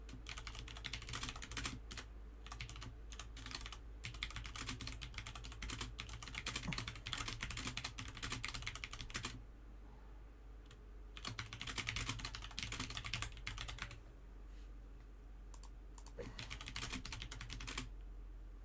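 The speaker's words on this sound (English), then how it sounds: "Angry typing noises." Fast, forceful typing on a computer keyboard, dense bursts of clacking keys up close with brief pauses, no talking over it.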